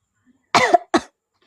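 A person coughs twice in quick succession, a harsher first cough followed by a shorter second one, close and loud against a quiet room.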